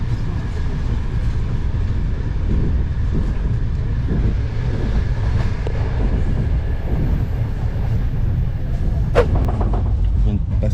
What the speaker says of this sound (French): Mais dis-moi, Jérémy, pourquoi est-ce que les trains, ils sont assez vétustes?